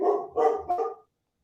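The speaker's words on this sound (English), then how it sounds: "It is too late for you to be barking." A dog barks three times in quick succession, close and loud, then falls silent.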